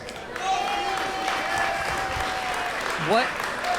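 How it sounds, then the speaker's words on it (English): An audience at an independent wrestling show claps steadily for several seconds, a broad wash of applause with some talk mixed in over it. "Can we give a round of applause to the service members?"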